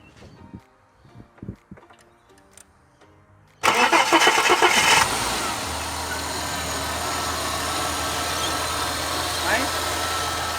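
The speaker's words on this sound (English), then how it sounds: "You listen to this, for a cold start, for a high kilometre AU," A high-kilometre Ford AU car cranks briefly and fires on a cold start, then settles into a steady, fairly quiet idle close by, after some light knocking and handling noises beforehand.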